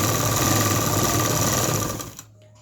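An electric sewing machine stitches kameez fabric in a fast, steady whirring run, close and loud, then slows and stops near the end.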